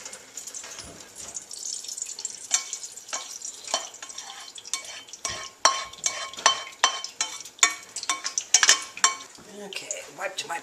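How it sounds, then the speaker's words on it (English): A frying pan wiped out after hamburger grease is drained, giving close scraping and rubbing strokes with light clinks of metal in an irregular rhythm. "wiped my pan out"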